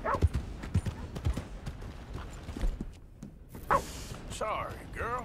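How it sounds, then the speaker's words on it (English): Horse hooves clip-clop in the Red Dead Redemption 2 video game, a run of close, irregular thuds, followed by a short whinny near the end, with a player talking over the gameplay. "Why can I not groom my horse?"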